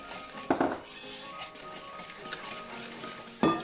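Melted butter is stirred into waffle batter in a bowl, with a utensil clinking and tapping against the dish in a few sharp knocks amid soft mixing.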